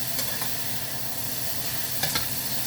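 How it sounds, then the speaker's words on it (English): Worcestershire sauce hits a hot wok and sizzles in a steady loud hiss, with a couple of faint clicks of a utensil on the metal. "So now I put just a little bit of this when the wok is hot."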